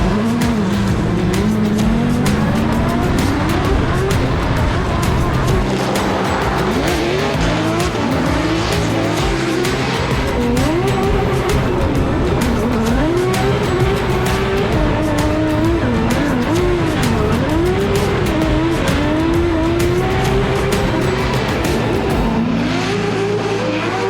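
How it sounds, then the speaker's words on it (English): Drift cars at a Formula Drift round in New Jersey scream through turns, high-revving engines rising and falling over constant squealing tires, heard loud and continuous with no talk. "The cars are moving around a lot now."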